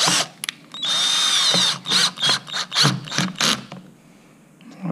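A power driver fastens screws while a screen is held in place, giving a loud, close whir that sustains for about a second, then breaks into several short bursts of trigger pulses before stopping.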